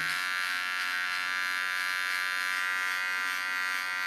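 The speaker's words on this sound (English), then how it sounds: "Like a small clipper, I just correct the lines I just cut and clean the line." A small electric hair clipper runs continuously at close range with a steady, even buzz while it cleans up the lines of a haircut, no speech.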